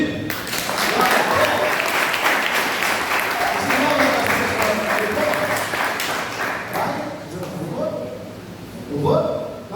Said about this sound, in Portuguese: Então vamos aplaudir?